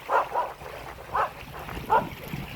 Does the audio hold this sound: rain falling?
no